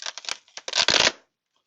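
Scissors or a blade cutting open plastic packaging around model airplane landing gear parts, a quick series of close crinkling snips and rustles ending in a longer tearing scrape.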